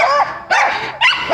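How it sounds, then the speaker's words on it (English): A dog on a family nature walk up a hill gives three sharp barks, close by and fairly loud, with short pauses between them and no talking. "You see, this dog is nice and calm."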